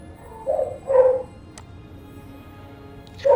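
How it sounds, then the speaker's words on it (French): Dogs bark and yip in the background, a couple of short bursts early, another at the end, fairly near but not loud. "Excusez-moi pour les chiens."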